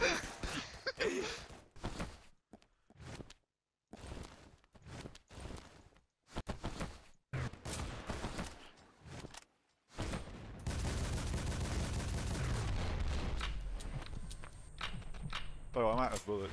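Bursts of gunfire crack out in the video game Double Action Boogaloo, sharp rapid shots in clusters separated by brief gaps, followed by a longer dense stretch of game noise, with a player's voice talking over parts of it.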